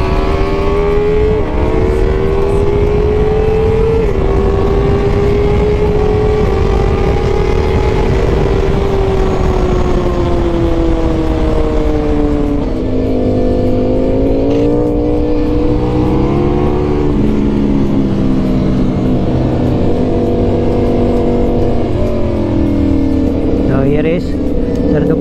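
A 2021 Ducati Multistrada V4S, a 170 hp motorcycle, rides hard around a race track. The engine drones steadily, its pitch rising and falling with throttle and gear changes, under constant rushing wind noise throughout.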